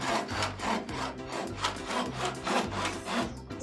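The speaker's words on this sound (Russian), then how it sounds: "И спокойно пилить." A hand saw cuts through wood for a wooden toy in steady, rhythmic back-and-forth strokes, close and clear with no talking.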